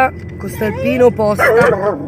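A small dog yips and barks excitedly at other dogs from inside a car, its high bursts mixed with human speech close by.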